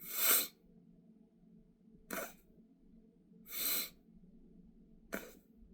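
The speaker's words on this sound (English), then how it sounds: "another thing you want to do is practice in breathing in really quick" Quick sharp breaths drawn in by a saxophonist practicing circular breathing, four short bursts spaced about two seconds apart, close and fairly quiet against near silence.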